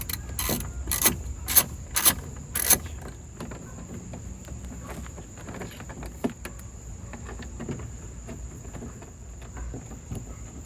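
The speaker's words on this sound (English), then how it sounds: "Next we're going to put the bolts back in to the door." Bolts being fastened back into the door of a 2024 Ram TRX Final Edition truck: a quick run of sharp ratcheting clicks at the start, then softer scattered taps and handling noises, close and fairly quiet.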